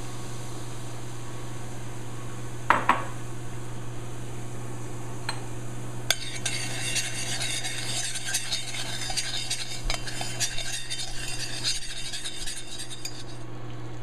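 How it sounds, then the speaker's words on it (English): Spice mixture of cumin seeds and allspice frying in a pan for chipotle barbecue sauce, a steady close sizzle with occasional utensil clinks and scrapes, the crackle brightening and intensifying midway as stirring continues, with no talking. "Let's fry up our spice mixture."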